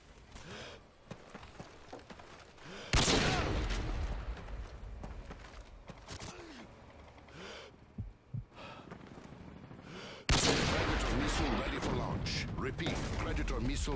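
Gunfire in a free-for-all shooter match with pistols in play, two loud sudden bursts standing out over quieter rumbling and mechanical game activity between them.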